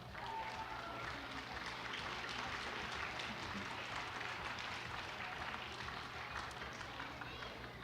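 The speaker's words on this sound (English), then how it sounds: "One more round of applause for y'all." An audience bursts into sustained applause, a dense crackle of many hands clapping steadily at a stream event, with a few voices faintly beneath.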